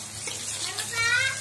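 Fish frying in oil in a pan over an outdoor firewood fire, giving a steady close sizzle with a low background hum throughout.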